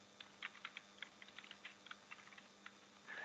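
Short run of keystrokes on a computer keyboard as a target name is typed, light irregular taps clustered closely together, fairly faint and close with no talk over them.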